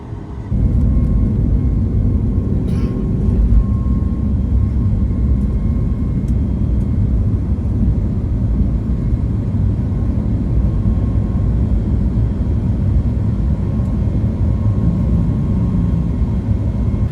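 Steady, loud cabin drone of an airliner's engines during a night flight arriving over Mexico City, a constant low rumble and whir holding without change.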